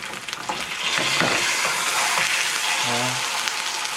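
Salmon fillet sizzling in a frying pan, Japanese style, a steady close crackle with a few brief stirring and scraping touches.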